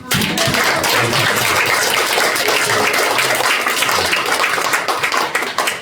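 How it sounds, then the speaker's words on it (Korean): Dense, steady applause from a church congregation at a revival meeting, a continuous wash of clapping that holds loud for several seconds without voices. "박수 한번 드리죠."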